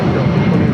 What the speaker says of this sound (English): At 757 making a short hop to San Diego, Delta 8840.